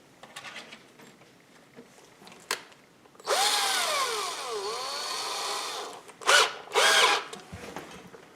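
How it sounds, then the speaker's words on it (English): A small electric drill boring a hole, with a few light taps before it, then a loud close whine whose pitch dips and rises over about three seconds, followed by two short bursts of the motor. "I'm going to drill a little hole in here, right in the middle there."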